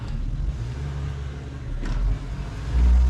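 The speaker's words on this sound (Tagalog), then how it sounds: "Itong ano namin, daanan, gilid lang kasi ito ng kalsada." A car passes on the road beside a house, a low engine rumble that swells toward the end, moderately close.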